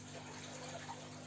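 Water pours steadily into a home aquarium while the decor is kept undisturbed, a faint continuous broadband wash with a soft trickle and no talk.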